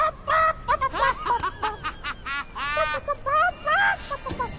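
A character in the video game Fable 3 does a chicken impression: a quick burst of clucking, squawking vocal sounds, close and loud, with a voice imitating a chicken in short choppy calls.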